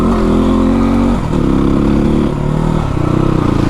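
A motorcycle engine labours and revs loudly while climbing an uphill road, a close, throbbing drone that dips and surges as the throttle changes.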